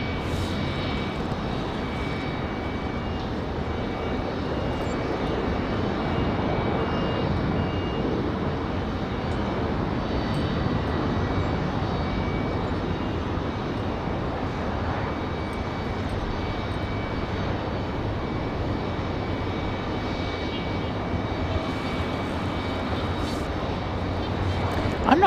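A jet airliner departs from the runway at Raleigh-Durham International Airport, a continuous broad engine roar holding steady and fairly loud for the whole stretch, heard from an outdoor spotting position.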